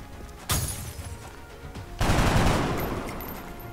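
Gunfire in the video game XCOM, two loud, sudden bursts of shots, the second a longer rattling volley that trails off into echoing noise.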